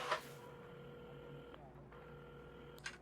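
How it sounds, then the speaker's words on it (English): In Assemble With Care, a telephone is dialed in a quiet coffee shop: a few faint, steady dial tones and short tone beeps, soft and close, over a low room hum. "at the counter, Carmen had started dialing the phone"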